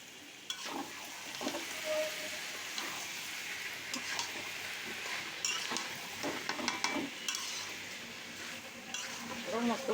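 Curry being sautéed and stirred in a pan, a steady sizzle with scraping and clinking of the spoon against the metal throughout, close and fairly loud.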